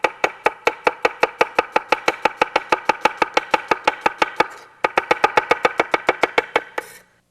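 A knife chops an onion on a cutting board in fast, even, crisp strokes, about four per second, in two close, loud runs separated by a brief pause, with no talking.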